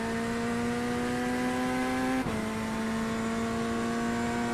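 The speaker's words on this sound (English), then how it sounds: "it sounds like a vacuum cleaner instead of a race car" An iRacing video game race car engine drones at a constant high pitch, thin and whiny like a vacuum cleaner, with a brief dip midway as it shifts before settling back.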